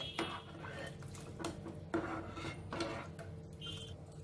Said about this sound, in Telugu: ఇప్పుడు ఇదంతా కలిపేసుకుందాము.